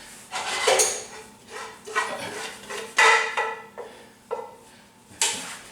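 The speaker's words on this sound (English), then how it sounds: "I have a little bit left on the stove, which I'm going to put into my bowl now." Mexican shrimp bisque is ladled from a pot on the stove into a bowl, with a series of close, sharp clinks and scrapes of utensil against metal and crockery at irregular intervals.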